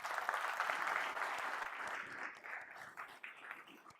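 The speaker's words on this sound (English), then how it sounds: "I want to give you guys all a round of applause for that" Conference audience giving a round of applause, a moderately distant wash of clapping that holds steady and then gradually tapers off.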